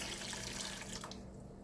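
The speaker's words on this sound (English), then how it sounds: "So I'm going to add some water to it." Water from a tap pours steadily into a pot of Jamaican-style brown stew pork, a continuous close splash that tapers off near the end.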